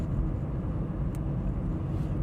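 A car drives along a narrow street, its low engine and road rumble steady and close throughout, with no talking.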